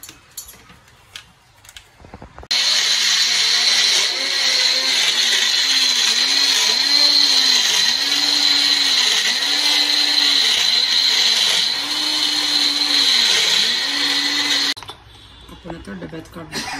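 An electric mixer grinder whirs loudly and steadily for about twelve seconds, grinding ginger, garlic, salt and a little water into paste, with a pulsing hum, then cuts off abruptly, with quieter room sound before and after.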